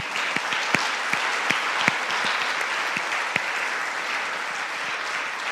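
Church congregation clapping steadily at a moderate distance, a dense even patter of many hands with a few sharper individual claps, lasting the whole stretch without talk.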